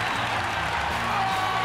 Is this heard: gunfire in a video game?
no